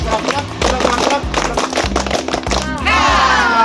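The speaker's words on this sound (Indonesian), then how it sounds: "Tepuk tangan buat kalian semua." Schoolchildren in a classroom clap together in a rapid, crackling burst of applause, loud and close, over low background music, with a voice rising near the end.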